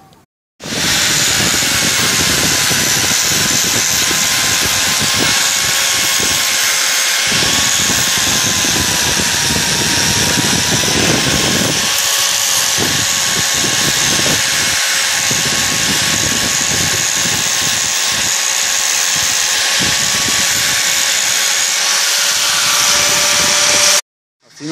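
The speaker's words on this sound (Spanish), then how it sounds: "Ahorita le vamos a dar con el disco de lija para que nos quede muy bonito nuestra entrega" An angle grinder fitted with a sanding disc grinds down metal in one steady, loud, continuous whine up close. The motor tone holds level throughout, with brief dips where the disc eases off the workpiece.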